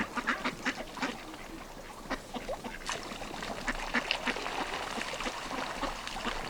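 A group of ducks quacking repeatedly, moderately close, in irregular overlapping calls against a soft outdoor background.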